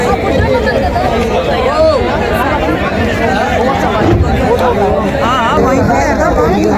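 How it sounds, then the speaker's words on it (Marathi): Dense crowd chatter at a Maha Kumbh boat landing, many overlapping voices close and loud in a continuous babble with no single speaker standing out. "बोटसाठी गर्दी खूप आहे"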